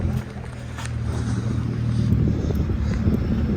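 Turbocharged Honda Civic race car with a D-series engine, heard as a steady low engine rumble idling close by in a garage setting, with some wind noise.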